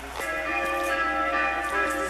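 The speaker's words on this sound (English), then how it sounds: "the bell is saying the name of Stephen Void" A church bell rings in Romania, its tone holding as a steady sustained hum with long overlapping partials, a moderately distant, continuous resonance with no talk.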